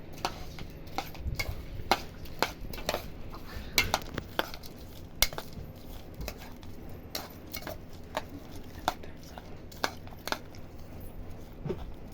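Lay's chips chaat being mixed in a bowl, with a steady run of crisp clinks and scraping taps of a utensil against the dish, near and fairly quiet with no talk.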